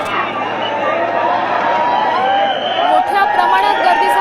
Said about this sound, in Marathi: गणपती बाप्पा मोरया असं भक्तांकडून जोरदार घोषणा देण्यात येते।